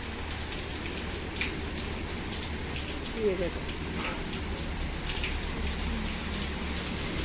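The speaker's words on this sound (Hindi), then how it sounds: "खूब बारिश हो गई।" Steady, moderately loud rain hisses outdoors in a constant wash, with someone speaking a few brief words over it.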